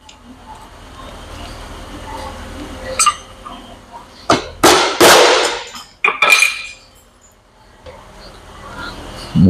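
A screwdriver prying and twisting the wiper seal out of a CASE tilt cylinder, giving close metallic scrapes and clanks in a cluster of sharp bursts, with quieter tapping before and after.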